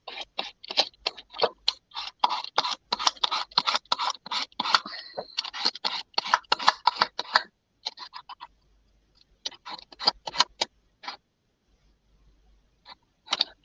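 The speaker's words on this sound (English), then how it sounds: "I'll just cut this one in half just so I can get them to cook quicker." Knife cutting through a bacon-wrapped stuffed pork chop, a close, steady run of crisp scraping and clicking strokes that pauses, then resumes with a few sparser cuts before falling quiet.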